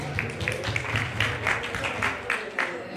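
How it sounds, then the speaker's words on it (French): Audience applause at a beauty pageant final in Morocco, a steady crowd of clapping hands with rhythmic peaks at medium distance over a low background hum. "veuillez l'applaudir s'il vous plaît"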